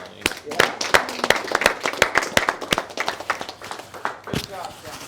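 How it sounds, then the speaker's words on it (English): A room of people at a library event honoring Colleen Menefee, opening a new reading corner in Los Banos, claps in a loud, sustained round of applause close by, with individual sharp claps standing out. "let's have a big round of applause in honor of Colleen"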